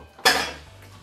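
Roasted vegetables dropped into a pot of pumpkin soup curry, a single sharp clatter of metal and dishware that rings briefly and fades, close and alone.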